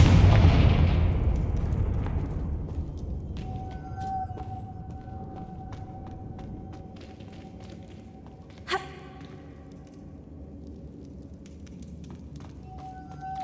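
Confringo explosion spell from a Harry Potter video game, a heavy blast that rumbles and fades over several seconds, followed by quieter game ambience with a faint tone and one sharp crack later on.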